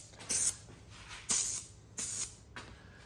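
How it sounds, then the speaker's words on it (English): Primer spray from an aerosol can hits plastic parts in three short, sharp bursts plus a faint fourth, each a close hiss lasting under half a second, with quiet pauses between. "So that was my third heavy coat of the primer."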